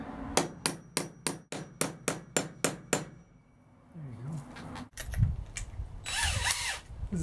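Close, sharp hammer strikes on a nail set drive a nail into a hog wire deck rail in a steady series of about ten blows, then a pause and a burst of power-tool whirring with some clattering.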